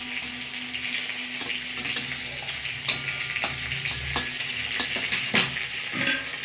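Taro stolons (kochur loti) with fish in a sour curry sizzle steadily in a pan as a spatula stirs and scrapes in irregular strokes, close and fairly loud.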